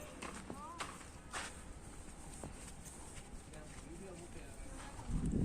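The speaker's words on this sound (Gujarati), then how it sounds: "અને આપણી ઘોડી" A mare's hooves on a farm: a few scattered, fairly faint clip-clop steps amid outdoor background noise, with a louder rumbling knock at the end and a person talking.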